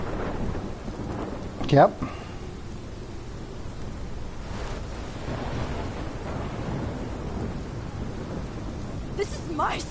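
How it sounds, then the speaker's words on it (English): Thunderstorm with rain in the Life is Strange video game: a sharp nearby thunderclap early on, then steady rain and distant rumbles, with a brief spoken word. "This is my storm."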